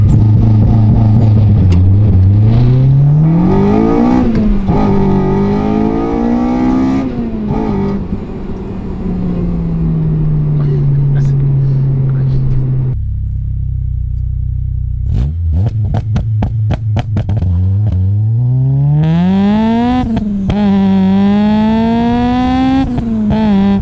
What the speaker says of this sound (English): Yeah, so this car has got a launch control.